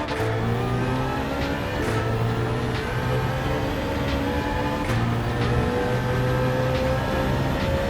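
A BMW E46 M3 GTR engine in Gran Turismo 7 revs high and hard, steady and loud throughout, with repeated upshift and downshift pops and a continuous racing drone.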